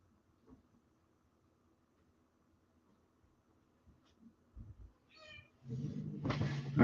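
A cat outdoors meows near the end, with a high rising cry followed by a louder, fuller yowl close to the microphone after several seconds of quiet rustling.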